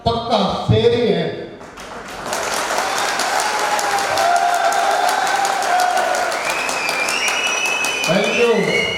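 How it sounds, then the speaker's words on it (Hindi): A large audience at a motivational speech event in Rewari bursts into sustained, loud applause that runs for several seconds, with a voice briefly heard at the start and end. "मुझे आपकी तालियों की गड़गड़ाहट देख के लग रहा है कि आप पक्का शेर ही हैं।"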